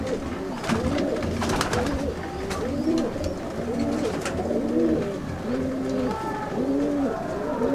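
Kasuri and Dabbwale pigeons, including a male, coo steadily and close by in repeated soft, throaty phrases that overlap one another, with faint rustling in the background.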